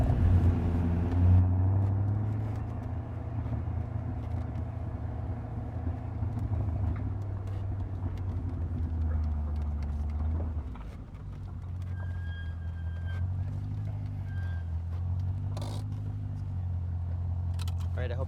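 BMW E34 540i V8 with a Magnaflow exhaust and resonator delete, a steady deep rumble from the car in a parking lot, with the pitch dipping and rising as the engine revs. Spoken voices are heard over parts of it.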